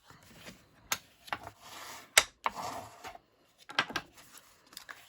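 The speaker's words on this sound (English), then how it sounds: "We can fold and burnish that." Scored cardstock being folded and burnished by hand, a series of soft rubbing swipes and light crisp paper taps, close and quiet, with no talking.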